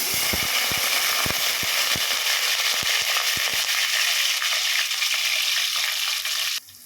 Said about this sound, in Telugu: ఆనియన్స్ ఒకటి పచ్చిమిర్చి తాలింపు వేసేస్తాం